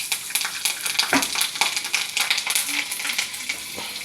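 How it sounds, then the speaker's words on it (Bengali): Black cumin seeds and chilies sizzle and crackle in hot oil while being stirred, a steady close frying hiss with scraping stir strokes and no voices. "কালো জিরেটা একটু হয়ে এলে একটা দুটো একটু তেলে দিয়ে দিলাম"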